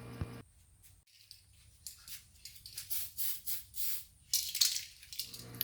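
An RC car hardbody, a Blitzer Beetle shell, is spray painted in a series of short, hissing aerosol bursts, some quick and some longer, close to the listener with quiet pauses between passes.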